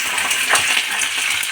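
Chana dal and dried red chilies added to hot oil with mustard seeds while tempering for tamarind rice: a steady, close hiss and crackle of frying that holds even throughout.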